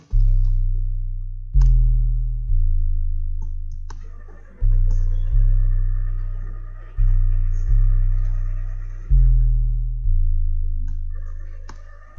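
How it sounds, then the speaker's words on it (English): Deep, booming 808 bass notes hit in a repeating pattern, each one sustaining and slowly decaying, with faint clicks and a soft melodic line above. "It's a basic 808, but you gotta put it at a deep note like this."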